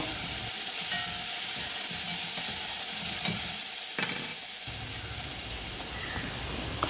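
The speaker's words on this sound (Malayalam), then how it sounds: "തക്കാളി സവാളയൊക്കെ ഒന്ന് വഴറ്റാം നമുക്ക് കേട്ടോ" Continuous sizzling of tomatoes and onions sautéing in a pan, with scraping stir strokes, one louder burst near the middle, then a quieter steady fry.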